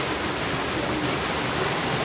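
A waterfall at Luban roaring steadily and loudly from close by, a dense unbroken wash of falling water with no pauses and no voices.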